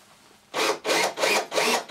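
Cordless drill driving a thread tap through a workpiece, run in four short pulsed bursts of whirring with brief gaps between them, close and loud with no talking.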